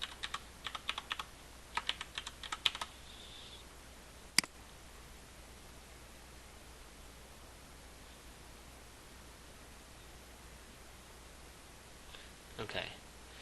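A password is typed on a computer keyboard as a few quick bursts of soft key clicks at the start, then a long stretch of faint hiss with one sharp click and a brief spoken phrase near the end.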